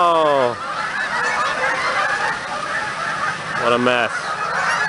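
Geese honk on a lake, a drawn-out honk at the start and another a few seconds later, over steady outdoor noise, with a person speaking nearby.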